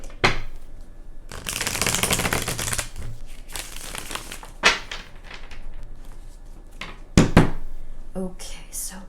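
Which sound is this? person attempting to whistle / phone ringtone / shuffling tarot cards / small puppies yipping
shuffling tarot cards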